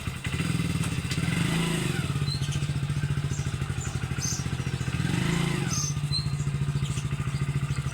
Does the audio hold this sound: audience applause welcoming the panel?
no